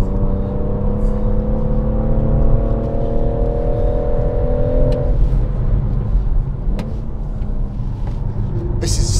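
BMW M140i at Goodwood circuit held in a long, steady engine note as it powers around a corner, loud and close from the cabin, the pitch shifting midway as it carries through; a person talks over the engine.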